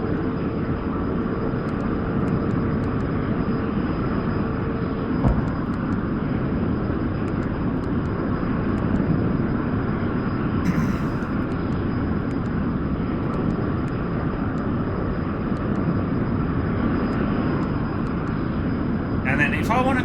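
F-100D jet flying in a flight simulator, a steady droning engine hum with constant broad noise and a faint high tone, running unbroken in the cockpit the whole time, with a brief click near the end.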